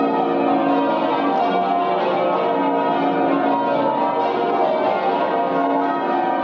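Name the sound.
church bells of St. Paul's Cathedral ringing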